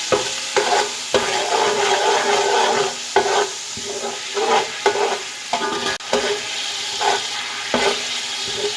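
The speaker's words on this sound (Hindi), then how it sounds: "इसको हल्का सा फ्राई कर लेंगे।" Ginger and crushed garlic sizzle steadily in oil in a pan while a utensil scrapes and stirs at irregular intervals, close and fairly loud, with no talking.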